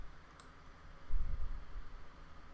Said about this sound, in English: Click.